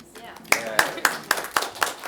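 Applause at a public library board meeting, a small group clapping in sparse, evenly spaced claps, close and moderately loud, with faint talk at the start.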